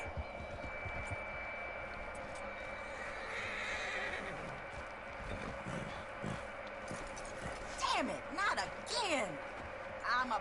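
A horse in Red Dead Redemption 2 lets out a whinny amid game ambience and hoof clip-clops, with a voice speaking over much of it.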